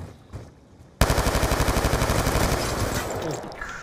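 Sustained rapid gunfire in Call of Duty Black Ops 2 Gun Game mode: after a quiet second, a loud automatic burst kicks in and rattles on steadily to the end, close and dense.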